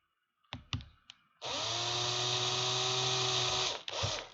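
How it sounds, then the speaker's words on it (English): A handheld drill bores a hole through a hollow 3D-printed M3 Predator prop, giving a steady high whine of about two and a half seconds, preceded by a few sharp clicks and followed by a short burst as it breaks through. "it feels so wrong that I'm actually drilling a hole in this"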